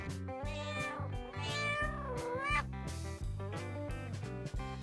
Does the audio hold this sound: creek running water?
no